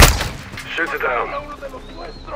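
Gunfire in the Call of Duty Modern Warfare II video game, a loud burst at the start followed by scattered shots and rumbling under a talking voice.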